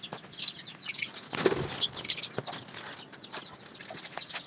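Pet lovebirds in a colony enclosure chirp and squawk in sharp, repeated bursts with brief wing flaps, close and lively, with no voices.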